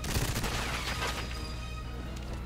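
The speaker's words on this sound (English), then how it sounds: "Okay, well now I got a machine gun." Rapid automatic machine gun fire in the GoldenEye 007 Reloaded shooter game, a dense loud burst of overlapping shots that rings out and tails off over a couple of seconds.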